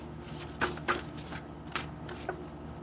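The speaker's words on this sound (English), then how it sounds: "Shuffling for the collective." Tarot cards shuffled by hand: soft riffling and papery slaps in a few quick bursts, close and quiet, with no talking.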